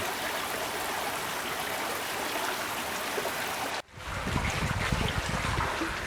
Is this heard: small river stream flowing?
yes